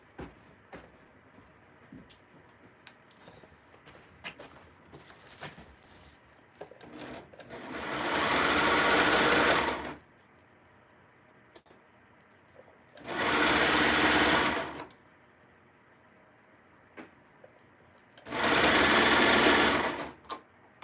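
A sewing machine stitches the sleeve seam of a knit shirt in three loud, steady runs of a few seconds each, separated by quiet pauses with faint handling noises.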